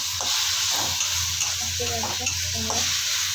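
Crab curry spices with cumin powder being sautéed and stirred in a pan, giving a steady close sizzle with scraping stir strokes throughout.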